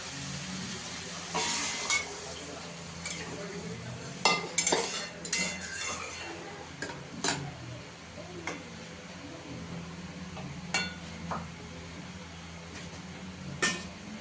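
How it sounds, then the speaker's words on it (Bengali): Foli fish curry (macher jhol) sizzling in a pan as hot water is added, a steady frying hiss punctuated by several sharp clinks and scrapes of a metal spoon against the pan. "এখানে গরম জল করে রেখেছি, ঝোলের জন্য দিয়ে দেবো।"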